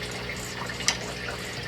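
Water from a pet-store fish bag pours through a net into an aquarium, a steady soft gushing with one brief splash in the middle.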